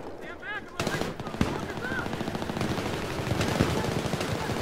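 Enemies fire rapid automatic gunfire in a Metro video game, dense rattling volleys with sharp individual cracks running throughout while players talk over the shooting.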